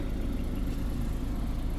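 Honda City Hatchback SV with CVT, just started with a push button, idles in a steady low rumble, moderately quiet and continuous throughout.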